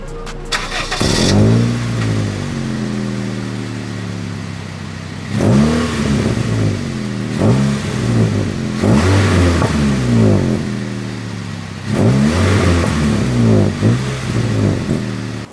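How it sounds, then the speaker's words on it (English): A 5-speed manual Honda Fit engine revs up in several loud, close bursts, the pitch climbing and falling back between blips, with a steady idle running underneath. "now a little rev for the Honda Fit."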